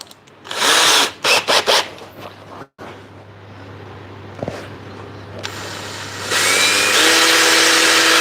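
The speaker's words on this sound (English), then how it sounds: "let's go with a 4mm drill bit" Several short bursts from a hand drill fitted with a 4mm bit during C-clamp smithing work, then a quieter pause and a longer sustained run of the drill, loud and close with a whining motor tone.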